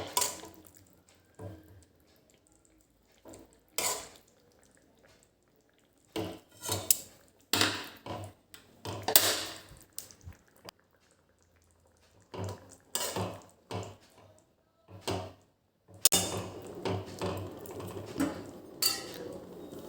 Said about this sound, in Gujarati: એને આવી રીતે થોડુંક ચમચાથી મેશ કરી લેવાના